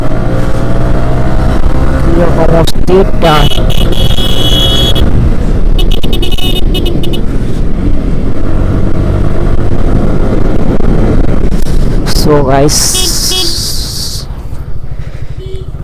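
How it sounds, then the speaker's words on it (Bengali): Motorbikes ride along a winter road, their engines roaring loudly as they pass close by with rising and falling revs, while someone talks briefly over the traffic. "কীরকমভাবে বাইক চলে আসতেছে আপনারা দেখুন প্রতিনিয়ত গাড়ি আসতেছে"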